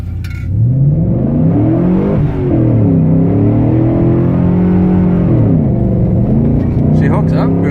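A new all-wheel-drive truck's engine revs and rumbles steadily while driving in first gear with a manual transmission, its pitch rising and falling close by as people talk over it.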